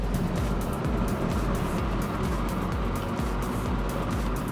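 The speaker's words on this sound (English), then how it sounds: "going to open down this window" Wind roars through an open window of a 2020 Hyundai i20 while driving, a loud steady rushing noise with a low rumble underneath and no talking.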